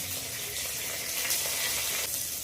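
Cinnamon, a bay leaf, fennel seeds, curry leaves and green chili sauté in a drop of oil for paneer butter masala, giving a steady close sizzle with no talking over it.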